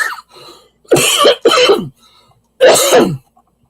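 Three loud, harsh coughs close to the mic, the first two back to back and the third after a short pause, with faint throat sounds between.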